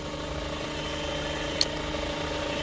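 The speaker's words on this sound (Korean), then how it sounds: "차를 시동을 걸어 놓은 상태고 PTO 들어가 있는 상태예요" A 1-ton sky truck engine idles steadily with the PTO engaged, a constant mid-pitched hum and light rattle throughout, with one brief click partway through and no voices.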